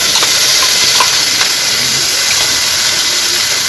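A blended spice paste for a vegetarian potato-and-paneer curry hits a hot pan, giving off a loud, steady sizzle that hisses evenly throughout with no talking.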